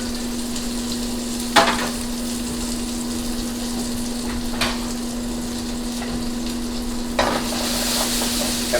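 Food sizzles and fries in a pan over higher heat, a steady close crackling hiss with a constant hum underneath and a few brief stirring clatters.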